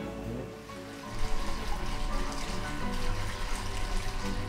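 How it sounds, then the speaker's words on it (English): Water trickles down pots into a koi pond, splashing steadily close by, a continuous gentle pouring sound with no talking. "you hear the sound of water trickling down the pots that we put in the middle of the pond"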